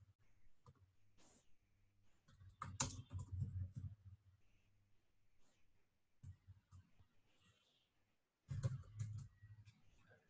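Faint typing on a computer keyboard during a website design webinar, soft scattered key clicks with a couple of louder bursts of tapping, quiet and somewhat distant, with no talking.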